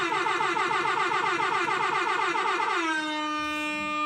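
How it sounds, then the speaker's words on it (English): A loud, blaring air horn sound effect blasts in rapid repeated bursts, then settles into one long sustained honk. "I got to give you an air horn"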